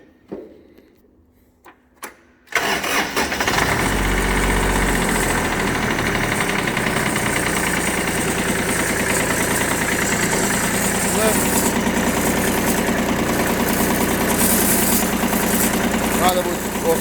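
A Shibaura SD1540 Japanese mini tractor's diesel engine cranks and catches after a couple of quiet seconds, then settles into a loud, steady, close idle with a knocking rumble that runs to the end.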